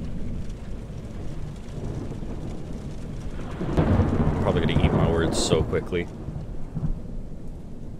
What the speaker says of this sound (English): Rain stopped quickly.